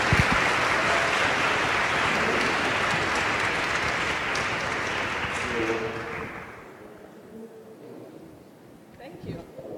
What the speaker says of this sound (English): can I have a round of applause for Swati Pise,